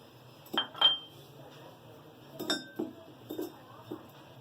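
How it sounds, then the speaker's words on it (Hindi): Dried plums (aloo bukhara), 15 to 20 of them, dropped into a cooking pot for chicken biryani, giving a few faint clinks and small knocks against metal. "ये आलू बुखारे हैं 15 से 20, ये डालेंगे।"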